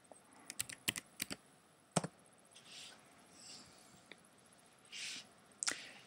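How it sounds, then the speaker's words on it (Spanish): Password keys typed on a computer keyboard during a system login, a quick irregular run of close, crisp clicks and taps with short pauses between bursts, no talking. "vamos a poner la contraseña"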